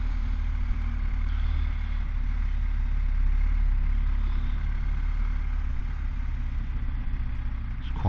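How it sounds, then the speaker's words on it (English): Passing road traffic in Kenilworth on a Sunday morning, heard from a motorcycle, with a heavy steady engine rumble and wind noise running throughout at close range. "There's quite a bit of traffic."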